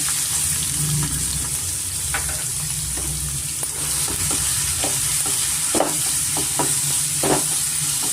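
Onions and green chillies frying in a pan for aloo methi curry, a steady close sizzle broken by several sharp scraping stirs of a spoon against the pan toward the end.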